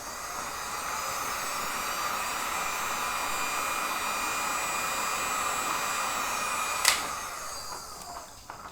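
A heat gun blows steadily on an old 1980s Pearl maple drum badge, a continuous close whooshing roar with an even tone that holds throughout and ends with a brief click as it shuts off.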